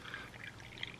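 Hot water pours steadily for coffee, made from a 1942 US Army field ration, a quiet, brief trickling splash at close range.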